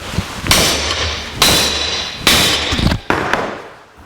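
A hammer strikes 1/4 inch steel bent in a vise, shaping a driveshaft loop for a 1949 Chevrolet gasser: four loud metallic blows about a second apart, each ringing briefly before fading.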